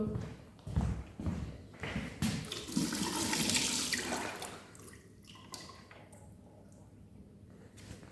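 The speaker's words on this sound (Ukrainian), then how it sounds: "Коли промили воду, е, зливаємо воду" Rinse water poured off washed wheat gluten dough through a sieve, a steady splashing pour that swells loud in the middle and then thins to a gentle trickle and drips, with no talk.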